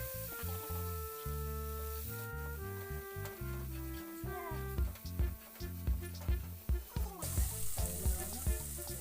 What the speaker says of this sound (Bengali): মশলাগুলো হালকা ভাজা হয়ে গেলে দিয়ে দেবো হলুদ, তারপর আর একটু মশলাগুলো ভেজে নেব।